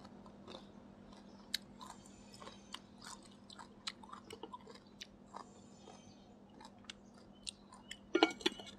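Crunchy chewing of pickled green mango outdoors, a string of crisp bites and munches close to the mic over a steady low hum, with a burst of louder crunching near the end.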